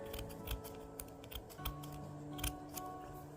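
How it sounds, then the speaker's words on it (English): Scissors cut through fabric for a bat costume in a quick series of crisp, close snips, about a dozen in a few seconds, over a steady low background hum with no talking. "You're just going to want to cut halfway to the top."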